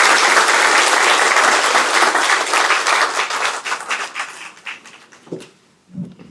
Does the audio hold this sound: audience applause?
yes